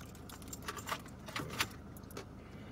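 Car keys jangling close to the microphone in a parked car, a series of light metallic clinks and rattles in short clusters, faint against a quiet idling background hum.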